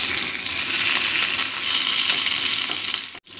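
Masala-coated Vetki (Asian sea bass) fish pieces frying in a pan, a steady dense sizzle with no breaks until it drops out briefly just before the end.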